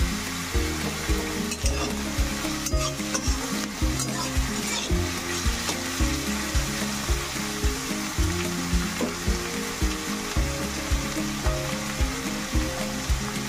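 Onions frying in a pan for Bengali kosha mangsho in the Golbari restaurant style, a steady close sizzle with repeated rhythmic stirring scrapes throughout, no talking.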